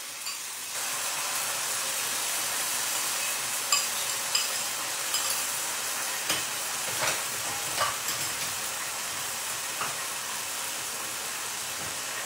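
Four to five tomatoes added to already sautéed onions sizzle steadily and loudly in a hot pan in a home kitchen, with a constant hiss broken by occasional stirring clinks.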